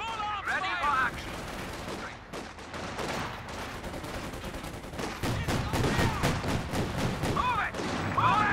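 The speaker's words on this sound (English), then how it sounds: "Contact! Small arms fire!" Small arms gunfire rattles through a Company of Heroes 2 battle, dense bursts of overlapping shots running almost continuously at close range, with game voice callouts mixed in.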